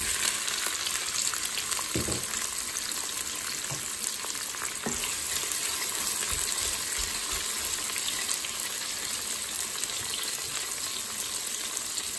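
Onions frying in oil inside a Cookeo multicooker give a steady, close sizzle throughout, with a few louder bursts of crackle and spatter early on and no talk.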